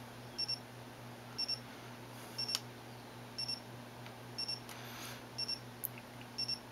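Short bursts of a high electronic iHome alarm clock buzzer beep, repeating at a steady pace, alone over a low steady hum.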